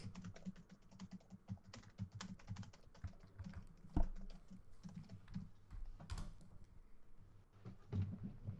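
Rapid typing on a computer keyboard, fast irregular key clicks in quick runs with a few heavier taps, close and fairly quiet.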